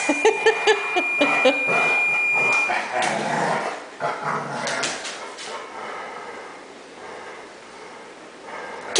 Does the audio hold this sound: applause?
no